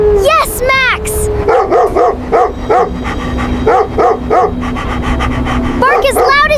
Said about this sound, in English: Bark as loud as you can!